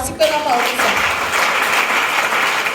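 A church congregation applauds to acclaim Jesus, a dense, loud, sustained wash of clapping that carries through the whole stretch, with a voice briefly audible at the start.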